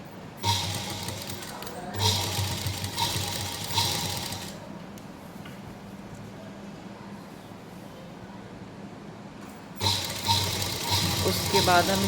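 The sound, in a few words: sewing machine stitching a straight seam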